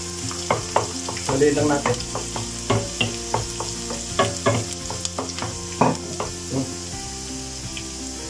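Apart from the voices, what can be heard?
garlic sautéing in a pan for pinakbet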